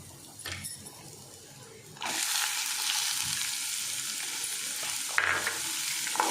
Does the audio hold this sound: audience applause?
no